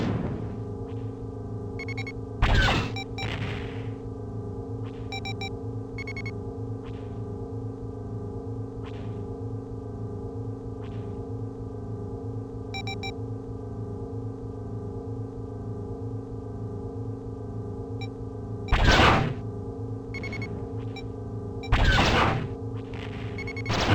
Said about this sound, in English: Maybe you can hear some hits, that's the mines hitting the containers.